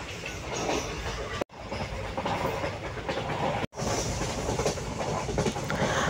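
A passenger train carriage rattles steadily over the rails on a long journey, with a continuous clatter broken by two brief silent cuts.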